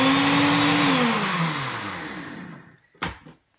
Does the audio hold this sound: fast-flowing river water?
no